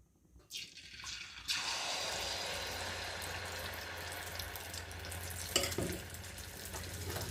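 Neyyappam batter is ladled into hot oil. After a quiet start, a sudden loud sizzle erupts and continues as a dense, steady crackle, with a sharp spatter near the end.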